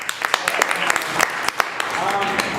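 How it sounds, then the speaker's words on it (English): An audience at a streamed live show gives a round of applause, scattered sharp claps popping irregularly over a busy background while a voice keeps talking. "Give her a big round of applause."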